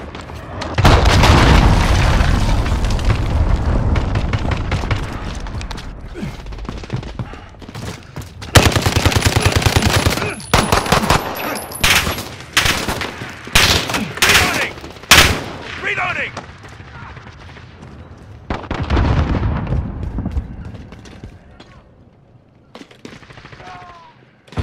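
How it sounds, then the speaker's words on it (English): A cruise missile strike booms alongside bursts of rapid gunfire and explosions on the Sawmill map in Call of Duty: Modern Warfare, loud and chaotic with repeated sharp blasts and some speech mixed in. "Enemy cruise missile incoming!"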